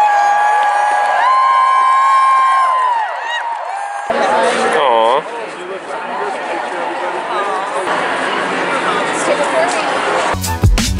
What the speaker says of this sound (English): I hear the cheers.